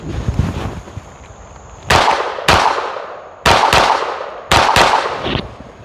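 Springfield Kuna submachine gun firing outdoors, five sharp loud reports in quick pairs and singles, each with a short ringing decay, no voices.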